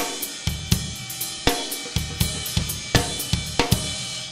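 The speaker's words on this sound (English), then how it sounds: "I'll do it on the other hi-hat, and it'll sound like this." A close drum kit groove is played on a second hi-hat with heavier cymbals, giving a washier, brighter cymbal sound over an even, repeating pattern of kick and snare hits.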